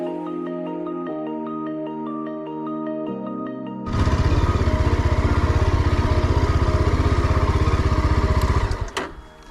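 A motorcycle's engine starts up and runs loudly and steadily close by on a solo trip around Cherrapunji, cutting out at the end after a stretch of music.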